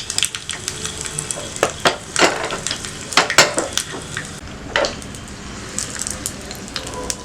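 Curry leaves, a chilli and asafoetida crackle and pop in hot oil as a tempering for yam chutney, giving close, irregular bursts of sputtering over a low sizzle.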